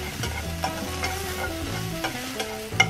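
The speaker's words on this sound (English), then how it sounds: "Add the carrot into the pan and stir fry for a short while." Carrot being stir fried in a pan gives a steady, close sizzle with soft clinks and scrapes of stirring throughout, and no one speaks.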